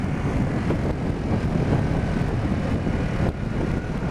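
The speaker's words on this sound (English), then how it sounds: "That's quite an exciting engine." A Harley-Davidson Pan America motorcycle engine accelerates hard, with a loud, rough, sustained roar heard close up over wind noise and no speech.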